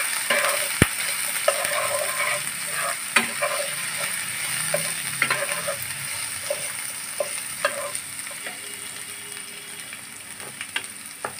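Ginger garlic paste and green chili fry in a pan with a steady, close sizzle, broken by frequent light clicks and scrapes of stirring. No one speaks.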